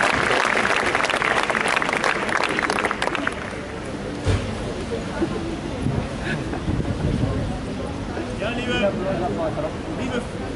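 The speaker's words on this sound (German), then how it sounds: "Vielen Dank für den Applaus" An outdoor crowd on a square in Nürnberg applauds at a Sahra Wagenknecht political rally, a dense burst of clapping that fades after a few seconds into wind noise and scattered sounds.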